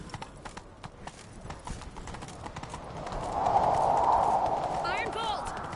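Horse hooves gallop in The Witcher 3, a steady clip-clop rhythm running throughout under background game ambience, with a louder rush building midway and a brief whinny-like call near the end.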